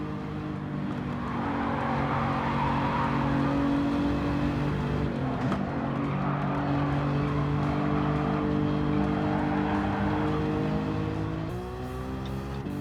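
Race car engines drone steadily at high revs during a Gran Turismo 7 WTC600 race at Tokyo, a continuous loud roar with a brief shift near the end and no talking.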